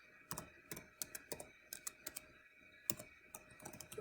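Keys click on a computer keyboard in short, irregular bursts of typing, quiet and close, with no talking.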